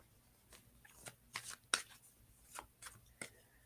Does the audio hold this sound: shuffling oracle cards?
yes